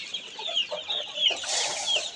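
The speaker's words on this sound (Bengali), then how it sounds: "এগুলো টাইগার মুরগির বাচ্চা" Tiger-breed chicks on a farm in Mymensingh peep in quick, high, thin chirps, several overlapping in a busy continuous chorus at close range.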